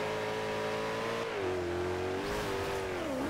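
A supercar engine in Forza Horizon 2 revs hard and steady at high pitch, dipping and climbing as the throttle shifts, loud and close throughout.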